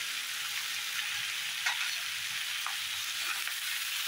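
Fresh field bean biryani mixture being sautéed with salt in a pan, giving a steady, close frying sizzle with soft stirring scrapes throughout and no talking.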